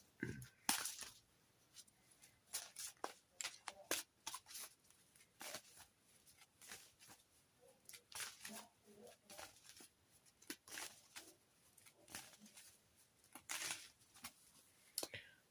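A deck of oracle cards being shuffled, quiet close flicks and riffling bursts that come in irregular clusters with pauses between them.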